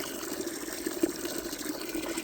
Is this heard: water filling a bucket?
yes